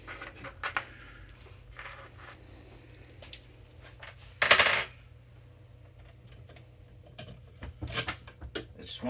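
Metal bolts for a Onewheel Floatwheel installation rattle and clink while being handled, with one sharp, bright jangle in the middle and lighter taps around it, close and fairly quiet.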